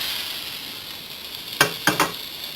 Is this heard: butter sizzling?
yes